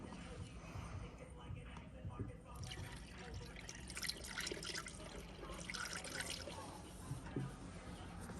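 Coolant is poured into the inverter reservoir of a Toyota Camry Hybrid, a faint, close liquid trickle and gurgle that grows more noticeable midway, with a person talking quietly at times.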